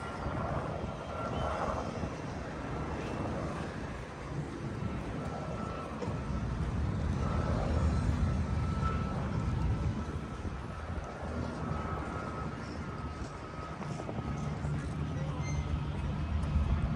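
A Carbon Cub light aircraft flies past at an airshow at Oshkosh 2023, its engine a steady broad drone with wind rumble on the microphone, holding at moderate loudness throughout.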